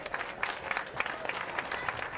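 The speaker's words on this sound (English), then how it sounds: "A big round of applause," Audience applause at a live racing event, a steady patter of many hands clapping throughout at moderate level, with no clear talk over it.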